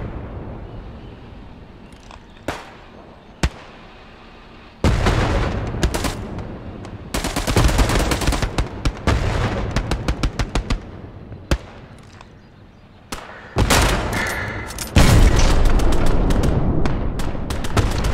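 Gunfire in the World War II shooter Hell Let Loose, Hurtgen forest map, with sharp single shots and then dense bursts of automatic fire and distant explosions, loud and close in stretches, with no talking.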